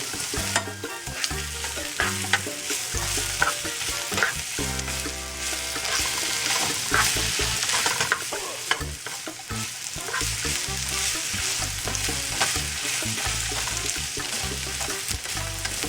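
Garlic paste and grated ginger sizzle steadily in a hot pan while a utensil stirs and scrapes through them, a continuous frying hiss with repeated stirring knocks.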